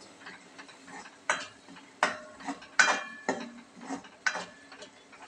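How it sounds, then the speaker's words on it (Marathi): Spice masala stirred in a pan, a series of sharp metallic clinks and scrapes from a spoon against the pan, irregular and close, with quiet gaps between strokes. "मग आता छान असं मसाल्याला हलवून घेते"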